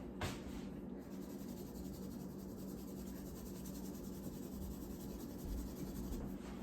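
A blue colored pencil shades on paper with a steady, close scratching texture that runs continuously, quiet and unaccompanied by talk.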